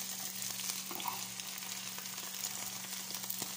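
Mie goreng noodles frying in a hot pan give a steady, close sizzling crackle that runs unbroken throughout, with a low constant hum underneath and no talking.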